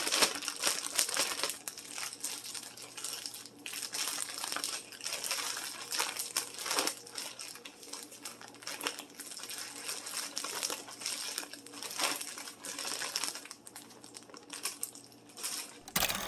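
Rustling and crinkling of a zip-top plastic bag being shaken, with dull knocks and scraping as a chicken drumstick tumbles about in coating mix inside; no talking.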